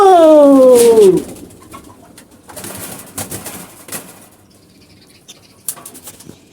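Pigeons in a loft, with a loud burst of cooing and calls at the start giving way to softer scattered wing flaps, shuffling and patter through the rest.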